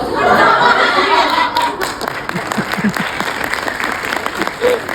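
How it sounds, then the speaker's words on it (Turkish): Audience applause fills the room, loud and steady, with scattered claps and a bit of chuckling through it. "Siz de alkışlamayın."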